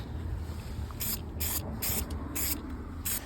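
Several short bursts of a spray gun or aerosol applying a final paint coat to a Daihatsu Midget build, each hiss lasting about a third of a second, close and steady over a low background rumble.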